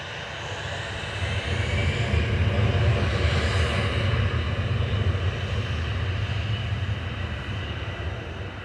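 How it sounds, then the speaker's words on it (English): An EasyJet airliner with CFM56 engines rolls down the runway at Manchester Airport for Paris Charles de Gaulle, its broad engine roar swelling after a second and holding loud and steady throughout, with no voices. "EasyJet 2107 to Paris Charles de Gaulle, EZTZ, just on the roll there. Trying to drive the runway off with its CFM56 engines."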